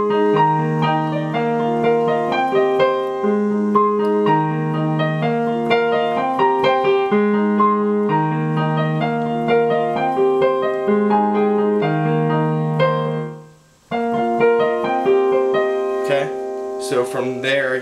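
Piano playing the featured singer's verse of a pop song, with steady chords and melody sounding close and continuous, briefly cutting out near the end before resuming with a faint noisy burst.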